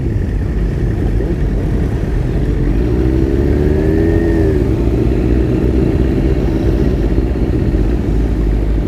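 Motorcycles ride past at a charity bike run, their engines a steady loud drone with a bike revving up and passing close by midway, under continuous road and crowd noise.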